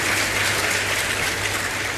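Audience clapping at a spiritual discourse, a dense, steady wash of many hands applauding together, loud and continuous with no talk over it.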